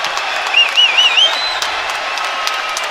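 A large crowd at the European Judo Championships in Tel Aviv applauds and cheers loudly, with a few shrill whistles rising over the clapping early on before it settles into a steady roar.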